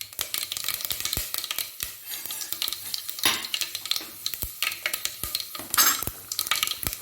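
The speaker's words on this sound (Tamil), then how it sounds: "வெந்தயம் நல்லா பொரிஞ்சிடுச்சு" Fenugreek seeds sizzle and pop in hot oil with mustard seeds for a fish curry, a continuous close crackle broken by sharp irregular pops and a few utensil clinks.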